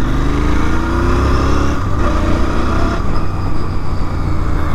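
A 2024 Royal Enfield Continental GT 650 in British Racing Green is accelerating, its engine loud and close, rising in pitch and then settling into a steady drone.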